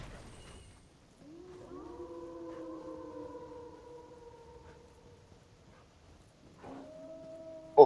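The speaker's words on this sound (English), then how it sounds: "Oh, it's a big daddy wolf." Drawn-out wolf howls from the Dark Souls III Ashes of Ariandel game, a long sustained cry followed by a shorter second howl, moderately loud with no talk.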